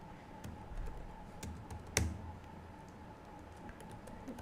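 Someone types C++ code on a computer keyboard: scattered, quiet key clicks with one sharper, louder keystroke near the middle, heard alone against a faint steady hum.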